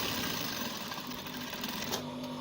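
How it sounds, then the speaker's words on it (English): A sewing machine runs steadily, stitching a half-inch shoulder seam on a button-down shirt with a notch collar, a dense continuous whir that stays loud and even throughout with no talking over it. "I'm sewing the ½ inch at the shoulder point."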